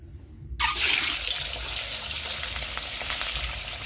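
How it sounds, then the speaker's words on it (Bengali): Eggs drop into hot oil in a pan and burst into a loud, steady sizzle and crackle that starts suddenly after a quiet moment and keeps going. "তেল এখন ভালো গরম হয়ে গেছে, এবার ডিম দিয়ে দেওয়া হবে।"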